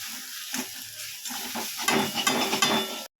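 Potato chop filling stirred and frying in a pan, a close, steady sizzle broken by scraping stir strokes that grow busier toward the end before cutting off abruptly.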